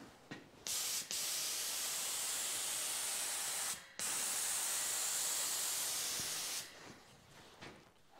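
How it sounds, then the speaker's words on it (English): A small touch-up spray gun set to a narrow fan sprays paint onto custom garnish moldings for a 1957 Chevy convertible, giving steady loud hissing bursts with brief pauses between passes. "You know what I need is a little touch-up gun."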